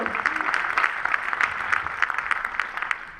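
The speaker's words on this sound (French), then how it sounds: "Je pense aussi qu'il mérite des applaudissements" Sustained applause fills a hall at a Liège film festival closing gala, a dense, steady wash of many hands clapping together.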